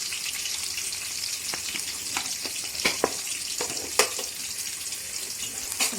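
Onions, green chilies and ginger garlic paste fry in a pan with a steady, moderate sizzle, punctuated by occasional sharp clicks and taps of a spoon stirring, close up with no talking.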